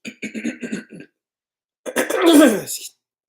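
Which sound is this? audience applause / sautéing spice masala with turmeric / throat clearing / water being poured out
throat clearing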